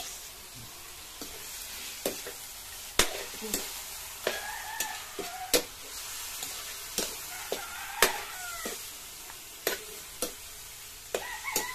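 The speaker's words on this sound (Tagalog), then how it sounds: "Tapos haluin lang natin ng maayos" Pork trotters (pata ng baboy) stirred in a pan with seasonings, with a soft sizzle under sharp, repeated spatula knocks and scrapes at an uneven rhythm, close by and without speech.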